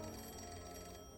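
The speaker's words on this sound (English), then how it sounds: "Want to get the phone?" An old-fashioned telephone bell rings steadily indoors, a continuous metallic trill at moderate level with no voices over it.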